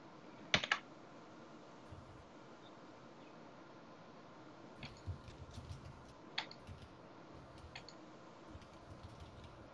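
Quiet keystrokes on a computer keyboard during document editing come in irregular short bursts with scattered single clicks and pauses, close but faint, with no talking.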